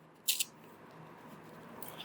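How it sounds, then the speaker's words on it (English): Scissors snip through a small piece of sponge used for applying gesso primer: two quick, crisp cuts close by near the start, then only faint room tone. "I'm going to cut a small piece of it."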